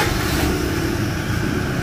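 A Toyota Vigo pickup engine, its low engine power fault treated with XADO Atomic engine oil, idles steadily up close, a dense continuous rumble holding even and loud throughout.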